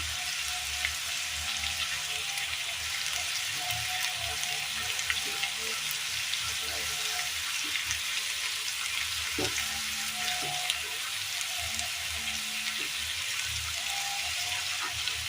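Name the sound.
stirring vegetables with turmeric and chili powder in a frying pan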